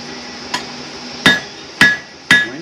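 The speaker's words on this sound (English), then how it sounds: "When you do hammer it back, you always get those buckles sticking out on each side." A blacksmith strikes hot metal during a demonstration at a historical village, giving four sharp ringing hammer blows at uneven intervals: one lighter tap, then three loud clangs that decay quickly.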